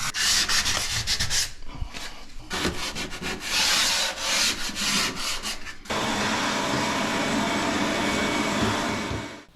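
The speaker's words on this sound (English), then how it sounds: "now I'm just going to sand it with 150 grit sandpaper and just kind of go with the grain" Hand sanding dried wood putty on bathroom trim with 150 grit sandpaper, loud close rhythmic rasping strokes with brief pauses, then a steady continuous hiss of sanding to the end, no talking.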